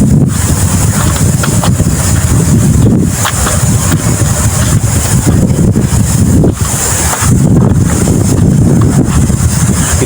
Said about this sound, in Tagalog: Yan, mahangin na dito.